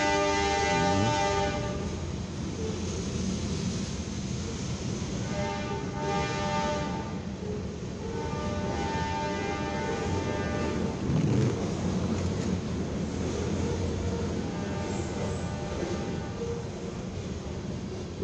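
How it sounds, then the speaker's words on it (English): A CFE RCPE eastbound mixed freight train passes a railroad crossing on an afternoon of light rain, giving a sustained loud rumble of rolling cars with sounded horn blasts near the start and middle. "This is CFE RCPE mixed freight train. This is eastbound."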